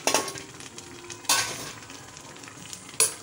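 Pumpkin leaf vegetable sauce being stirred in a pot, with a soft continuous sizzle and three sharper scraping bursts of the spoon against the pot, alone without talk.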